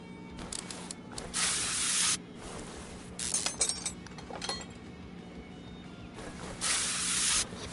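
A spray can in Car Mechanic Simulator 2021, worked on a Mopar car, lets out three loud, steady hissing bursts, each lasting about a second or so, with quieter gaps between them.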